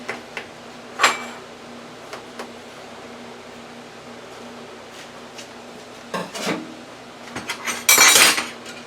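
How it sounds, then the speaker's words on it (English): A knife scrapes and clinks against a dish while cutting air fryer cornbread covered with chili, with a few sharp taps early and a louder scraping burst near the end amid quiet stretches. "Let me get a knife. I'm going to cut it."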